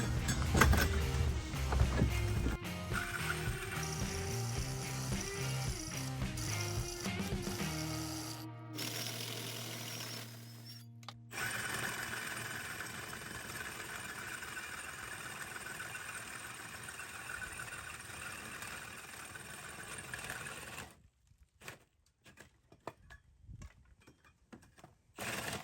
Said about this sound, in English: we're going to put our hole saw arbor into our little pilot hole